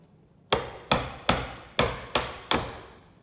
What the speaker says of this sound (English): And then we're going to lightly tap with the chisel.